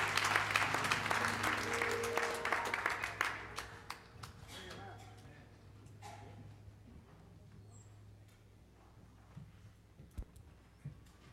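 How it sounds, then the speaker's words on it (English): Congregation at a worship service clapping hands in praise, a dense burst of applause that fades after a few seconds into scattered claps, faint talk and room noise. "Let's give God another hand clap of praise."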